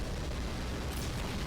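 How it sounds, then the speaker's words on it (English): Rocket blasts and explosions in a Skibidi Toilet animation, a dense, continuous roaring rumble of fire and detonations that stays loud and unbroken throughout. "Rockets and explosions and fire."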